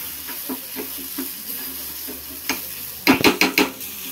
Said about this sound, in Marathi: थोडासा परतून घेऊया आपण।